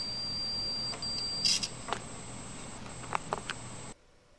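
A digital multimeter in resistance mode sounds continuity beeps as its probes touch a wire: a steady high tone runs for about a second and a half, then brief clicks and taps of the probes follow.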